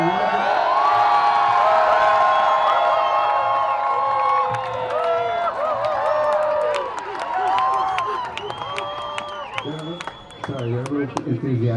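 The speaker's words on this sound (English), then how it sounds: "I'm in Albany with a huge crowd of people" A large crowd at an anti-fracking rally in Albany cheers and whoops loudly for several seconds, with voices shouting over the noise and the din easing slightly near the end.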